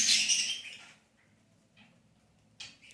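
Pet budgerigars in a home setting give a bright burst of chirping, then fall quiet apart from a couple of faint, brief peeps and a final short chirp, with no talk.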